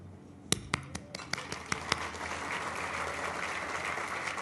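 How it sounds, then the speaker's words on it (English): A few sharp, separate claps ring out at an awards gala, then a crowd joins in and steady applause builds and holds, filling the room until the end. "You'll know why I'm clapping in a minute."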